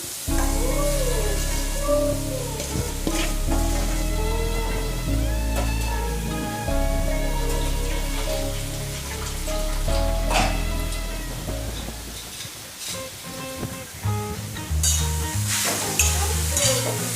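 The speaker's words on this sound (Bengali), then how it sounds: "কড়াই গরম হয়ে গেছে, এবার এতে আমি দিয়ে দিচ্ছি নারকেল আর চিনির মিশ্রণ।" A coconut and sugar mixture frying in a hot wok while being stirred, with repeated scraping strokes over a steady sizzle, close and fairly loud throughout, with no talking.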